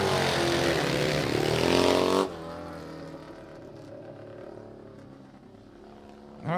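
Yamaha XS 650 twin racing motorcycle engine revving hard at a dirt track race, a loud roaring rise that suddenly cuts to a lower, distant engine drone with faint crowd ambience, then swells again.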